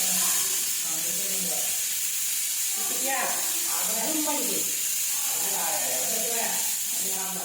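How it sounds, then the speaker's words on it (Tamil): Steam hisses steadily from a pressure cooker while vegetable biryani cooks, a continuous close whoosh with a person talking over it throughout. "அது வந்து ஆவி வந்த உடனே நம்ம விசில் போட்டுடலாங்க"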